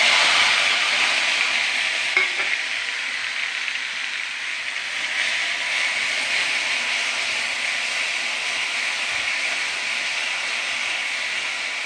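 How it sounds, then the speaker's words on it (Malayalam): Crushed garlic, onion, three green chillies and four red chillies frying in a pan, a steady loud sizzle and hiss with occasional stirring, continuous and close, no voices. "വെളുത്തുള്ളി, ഉള്ളി, 3 പച്ചമുളക്, 4 ചുവന്നുമുളക് നമുക്കിതിലേക്കിടാം"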